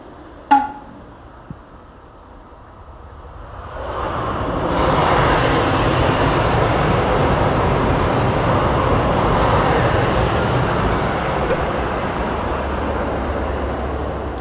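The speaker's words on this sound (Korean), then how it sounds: "그리고 이제 드론이 움직입니다." A DJI Mavic 3 Pro drone flying a waypoint route, its motors rising from a faint start to a steady broadband whir that holds for about ten seconds after a brief click.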